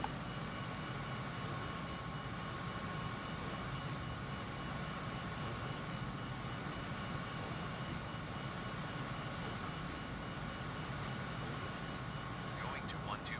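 A Cessna's engine drones steadily inside a flight simulator game just after takeoff from Melbourne, a continuous broadband hum running throughout with a pilot's voice talking over it.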